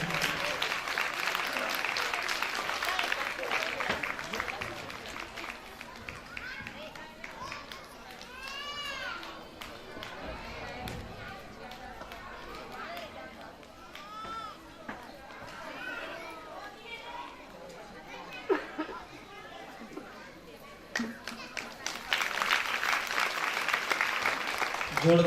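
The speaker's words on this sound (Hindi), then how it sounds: "ताली बजाते रहेंगे।" Applause and clapping from an audience at a Shrimad Bhagwat Katha, a Hindu religious discourse, sustained and crowded with chatter and children's voices mixed in, swelling louder toward the end.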